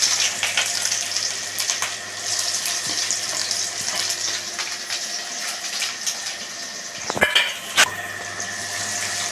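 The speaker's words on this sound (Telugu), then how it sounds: "అలాగే ఆనియన్స్ అనేవి కూడా వేసేసుకుందాం" Onions frying in a pan for Hyderabadi-style paneer dum biryani, a steady close hiss of sizzling with a few louder clattering stirs near the end, no voices.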